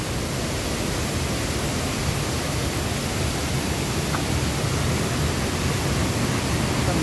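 The Pa Ba waterfall, its water running muddy and red, pours in a loud, unbroken roar that fills the air evenly from start to finish, with no voices.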